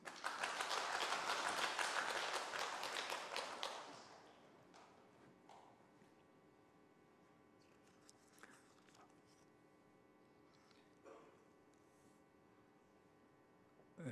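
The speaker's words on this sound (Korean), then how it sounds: "박수 한번 주세요." Congregation applauding in a church, a dense burst of clapping for about four seconds that fades quickly into a quiet room with a low hum and a few isolated knocks.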